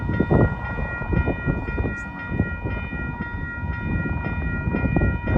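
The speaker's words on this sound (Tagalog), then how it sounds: "ayun na naman yung train isa, oh" Train passing near a station along a greenway, a steady rumbling clatter with rhythmic wheel knocks and a sustained high tonal whine, fairly close and continuous throughout.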